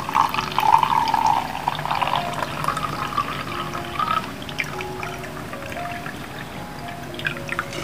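Cold water poured into a glass to mix a Salveo barley grass drink: a steady, close liquid stream that gurgles and splashes as it fills, loudest at the start and then tapering, with no voices.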